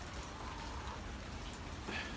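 Rain falls outside by a chicken coop, making a steady, even hiss of drops on surfaces with no talking.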